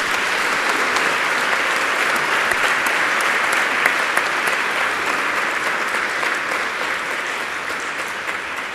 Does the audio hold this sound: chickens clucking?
no